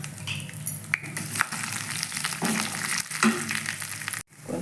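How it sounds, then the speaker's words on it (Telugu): Tempering spices fry in hot oil in a kadai, a continuous dense sizzle and crackle with occasional louder pops and stirring knocks, cutting off abruptly near the end. "తర్వాత బాండీ పెట్టుకొని ఆయిల్ వేసుకొని, ఆయిల్ హీట్ ఎక్కిన తర్వాత తాలింపు దినుసులు వేసుకోవాలి"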